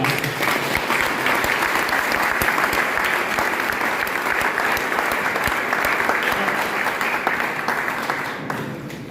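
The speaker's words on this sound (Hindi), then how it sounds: "एक जोरदार ताली बजाइए कि आप फ्री हो गए।" Loud, dense applause from a large audience right after a guided meditation exercise, sustained evenly for about eight seconds before starting to fade at the end.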